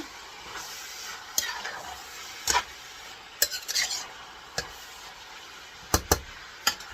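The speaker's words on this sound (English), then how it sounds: "Mix it all together." A spoon stirs dinuguan, a Filipino black pork blood stew, in a large pot, with irregular sharp clinks and scrapes against the metal over a low background hiss, several strikes spaced unevenly.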